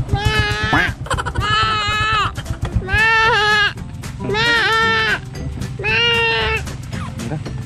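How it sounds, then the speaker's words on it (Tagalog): A goat bleats repeatedly outdoors at a plant nursery, several long wavering calls in a row, loud and close, with a low hum of background noise underneath. "This one kambing."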